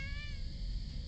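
A cat in a hidden object puzzle game lets out one short, clear meow over a dense, steady game ambience, close and distinct.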